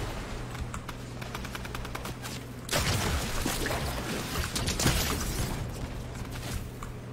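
Rapid automatic gunfire in the video game Fortnite rattles in a quick burst, then gives way to a denser, noisier stretch of shooting and game effects, all at a steady moderate level.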